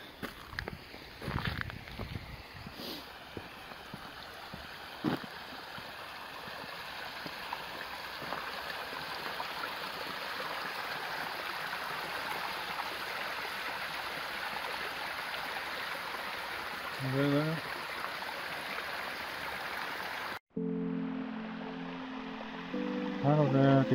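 Water runs steadily down a small stream near World War II bunkers in Vassvik, a continuous rushing wash with a few soft knocks and a voice heard briefly near the end.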